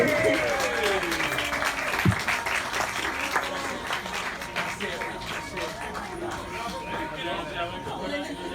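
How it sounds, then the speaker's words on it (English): Crowd applause at an outdoor stand-up comedy family festival picnic, continuous clapping mixed with audience chatter and background babble, moderately loud and sustained throughout. "Come on, can we have a huge round of applause, please, to the wonderful Maisie"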